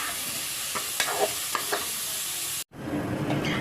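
Onion, celery and carrots sauté in a pan for a vegetable soup, giving a steady hissing sizzle with a few light stirring scrapes, broken by a brief gap before the sizzle resumes.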